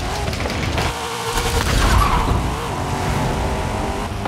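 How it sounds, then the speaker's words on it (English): A car driven in Grand Theft Auto V, its engine droning steadily with rumbling road noise and a swell of revving midway, loud and close with no talking. "Lovely day for a drive."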